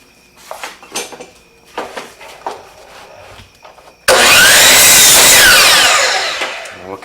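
A power saw whines loudly through a wood board for a few seconds after some scattered handling knocks and clatter, part of building a wooden welcome sign.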